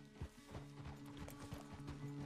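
Horse hooves clip-clop in a steady walking rhythm in the video game Red Dead Redemption 2, quiet and fairly distant, with no talking over them.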